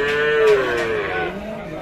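A young bull calf at a busy cattle market moos once, a loud, close, drawn-out bellow with a falling pitch, over a faint background murmur.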